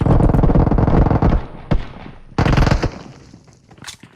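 A grenade blast and rapid gunfire in PUBG Mobile, with loud bursts of shots crackling in quick succession, a sharp bang midway, then a second burst that fades into quieter tails.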